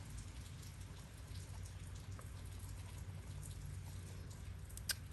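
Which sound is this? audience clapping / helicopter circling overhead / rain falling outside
rain falling outside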